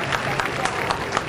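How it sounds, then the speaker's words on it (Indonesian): Audience applause for Silat Cekak Ustaz Hanafi martial arts performers at a demonstration event, a brief steady patter of many hands clapping at moderate volume. "Jadi tepukan sekali lagi untuk pesilat-pesilat Silat Cekak Ustaz Hanafi ini"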